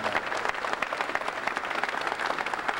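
A crowd at a political event with an NRA endorsement of the governor gives a dense, steady round of applause, many claps blending into a continuous wash heard at some distance.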